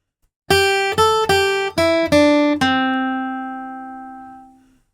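A flatpicked acoustic guitar plays measure 10 of the bluegrass tune Billy in the Lowground: six clear, evenly picked notes in a short run, the last one left ringing out and fading over a couple of seconds, heard alone.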